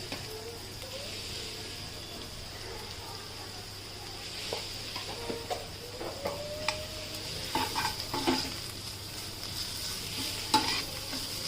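Onions frying in a pan with turmeric and ginger-garlic paste while cooking egg lababdar, a soft steady sizzle with intermittent scrapes and clinks of a spoon stirring, building slightly toward the end.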